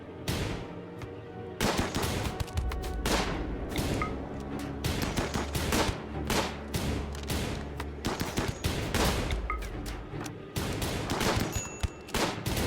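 Rapid gunfire from the colony-building game Rimworld rattles almost without pause, dense overlapping bursts and shots that stay loud and close throughout, with no voices.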